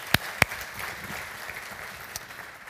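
Two sharp claps ring out early, followed by a faint, diffuse patter of audience applause at the opening session of a scientific forum, moderately distant and fairly quiet throughout.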